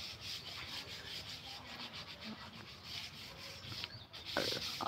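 A Malaysian-board dining table frame is rubbed with worn 240-grit sandpaper, a faint, continuous scratchy sanding hiss heard close by with no talking.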